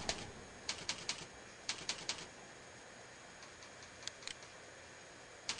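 Faint clusters of sharp computer keyboard key taps while a password is typed, quick irregular bursts separated by pauses, quiet and close with no talking.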